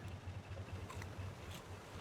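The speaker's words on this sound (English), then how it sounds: "Yeah, I'll leave the engines running." Engines keep a raft moving in the Raft video game, giving a faint, steady low chugging drone that pulses evenly throughout, alone with no voices.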